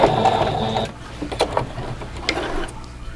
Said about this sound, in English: I'm going to go ahead and backstitch